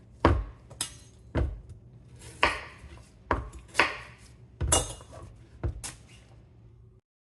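A knife chops peeled vegetables into julienne on a cutting board for pickled papaya relish, giving about eight crisp, unevenly spaced strikes close by with no talk.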